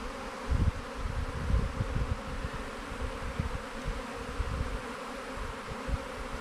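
Honeybees buzz in a steady, close drone around a productive hive, with a dense low hum and uneven surges in volume as insects move near and away. No voices are heard.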